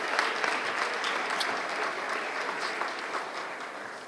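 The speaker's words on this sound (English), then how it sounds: "Let's give a round of applause to the coaches" Steady applause from an audience at a high school athletics signing day ceremony, honoring the coaches; dense, even clapping fills the room at moderate level for several seconds, with no speech over it.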